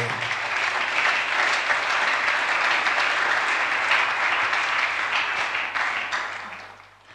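A church congregation bursts into sustained, dense applause at the opening of a 2019 gathering, loud and close, holding steady for several seconds before tapering off at the end.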